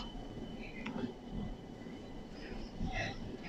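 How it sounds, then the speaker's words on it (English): A tram pulls out of Birmingham city centre heading for Wolverhampton, heard from inside as a low, steady rumble of wheels and motor with faint squeals and clunks, while a voice talks quietly over it. "we're just leaving Birmingham on the tram from Wolverhampton"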